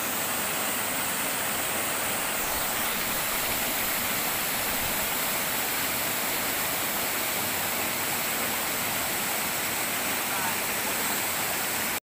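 A waterfall in Barangay Kabugaw, Bulalakaw, Oriental Mindoro roars as a loud, steady broadband rush of falling water, continuous and close, with no other sound standing out.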